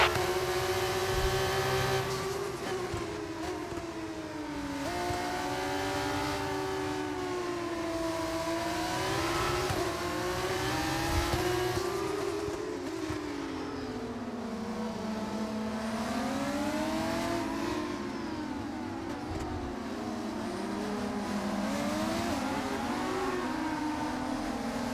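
Formula 2 race car engine at Monaco in F1 25, a loud continuous whine rising and falling through repeated gear changes, acceleration and braking, with pitch sweeping up and down over a sustained run, no talk.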